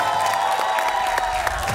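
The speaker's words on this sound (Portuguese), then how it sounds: "salva de palmas pro Core e pra equipe Guzan." A game-show studio audience claps in a brief, dense burst of applause with some crowd noise mixed in, heard close and steady.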